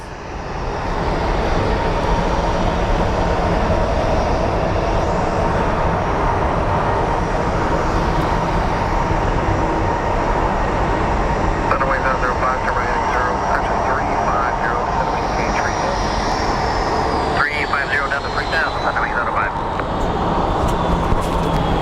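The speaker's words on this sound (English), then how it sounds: "we have the Global X taking off" A Bombardier Global Express business jet takes off at Phoenix Sky Harbor in foggy conditions, with a loud, steady engine roar that fills the whole stretch while a person talks intermittently over it.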